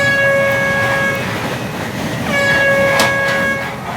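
A Class 352 electric multiple unit runs along the line, heard from on board as a steady rolling rumble with a sustained tonal whine that drops out briefly and then returns.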